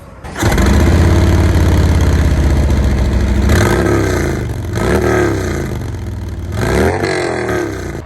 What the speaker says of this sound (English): let's get a sound check with the stock exhaust